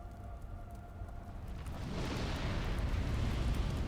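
Fire roaring in the ending cutscene of Dark Souls Remastered, a steady dull rumble that swells into a louder, fuller blaze about halfway through and keeps going.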